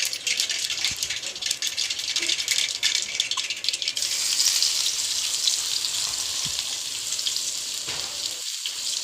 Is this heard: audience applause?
no